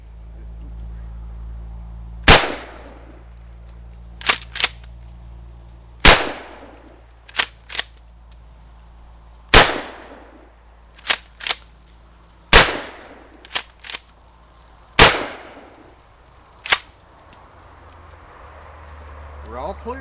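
A 20 gauge Mossberg Maverick 88 shotgun fires target loads outdoors, with several loud, sharp blasts spaced seconds apart, each trailing off in a brief echo, with quieter pump-action clacks between shots.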